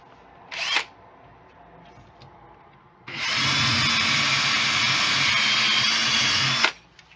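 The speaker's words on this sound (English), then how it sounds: "And now it's time to drill the hole." A power drill boring a hole through plasterboard while a vocal booth is being built: a brief tap and squeal near the start, a pause, then a loud, steady whine for about three and a half seconds that stops abruptly.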